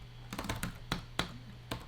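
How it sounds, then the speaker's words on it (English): Typing on an English-layout computer keyboard, a handful of sharp separate key clicks in uneven rhythm, close and fairly crisp over a low steady hum. "how do I do this on my English keyboard?"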